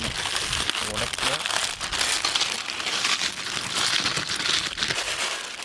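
A packet of Lays potato chips is crushed by hand, giving dense, continuous crinkling and crunching of the foil bag up close.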